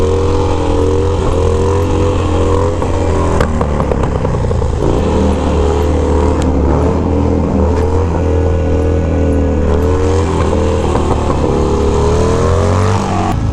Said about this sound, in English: Nothing to see here, just a couple Harleys wheeling.